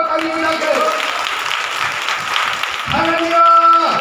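Loud clapping from a church congregation during a Hindi sermon, dense and sustained, with tonal voices or music ringing through it and swelling near the end.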